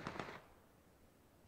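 Two or three quick, faint bangs of gunfire in the game PUBG: Battlegrounds sound in rapid succession at the start, then fade into quiet background noise.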